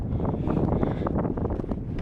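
Steady wind buffeting the microphone outdoors on Izalco Volcano, El Salvador, a constant low rumble with brief gusty bursts throughout, and no voices.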